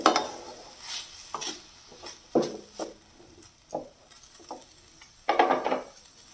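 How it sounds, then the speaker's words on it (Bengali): Pasta stirred in a pan with a spoon, a string of separate scraping and knocking strokes in an uneven rhythm, fairly close and quiet, with no voices. "এই যে পাস্তাটাকে দিয়ে দিলাম, দিয়ে ভালো করে নেড়ে নিতে হবে"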